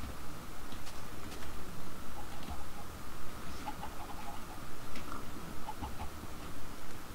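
Blocky video-game chickens cluck softly and sporadically in a Minecraft-style world, faint short clucks over a low steady background hum.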